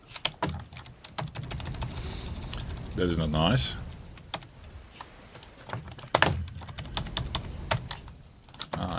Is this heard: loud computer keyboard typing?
yes